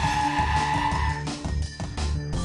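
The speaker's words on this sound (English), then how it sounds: "Full braking was done at 70 km per hour. Without ABS, the vehicle takes longer to come to a complete halt." A car brakes hard from 70 km/h without ABS, tires skidding on the road in a steady loud squeal and rumble that eases briefly partway through, with no talk.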